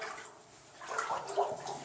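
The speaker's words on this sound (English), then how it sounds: "The water's going down from the top then." Water trickling down from above in the lower levels of the abandoned Black Diamond Mine, a steady faint splashing and running in a quiet, enclosed space, rising slightly toward the end.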